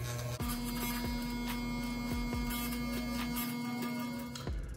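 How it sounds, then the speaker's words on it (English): Electric hair clipper buzzing steadily during a beard trim on the face, a close, continuous hum with faint handling sounds throughout. "you see my skin moving when I have the clipper on my face?"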